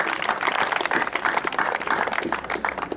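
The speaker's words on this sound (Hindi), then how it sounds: "सभी के लिए आप जोरदार तालियों के साथ स्वागत करना चाहती हूँ" A crowd clapping to welcome district officials and guests at a cricket final prize-giving ceremony, a dense, continuous burst of applause throughout, fairly loud and close.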